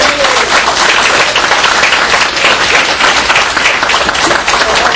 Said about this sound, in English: let's give Beth a round of applause